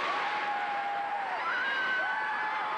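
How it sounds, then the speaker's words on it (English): The Gwazi wooden roller coaster at Busch Gardens Tampa runs along its track, a steady far-off rushing roar with shifting whines and faint crowd noise, no talk. "That's the sound of a wooden roller coaster."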